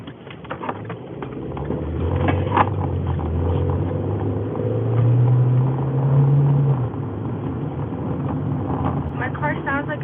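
Steady low engine drone and road rumble from inside a car cruising at moderate speed, continuous and fairly loud, with brief voices and small interior noises over it.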